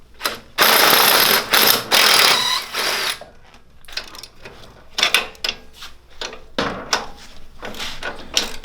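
Tools working loose the axle of a Coleman DT200 mini trike, bursts of ratcheting clicks and metallic rattles in short uneven spurts with quiet gaps between them, close by.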